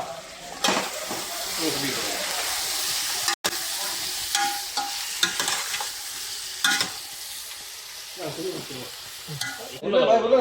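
Mutton kulambu simmering and frying in a pan is stirred with repeated scraping strokes over a steady sizzle, with brief pauses and a faint voice at times in the background.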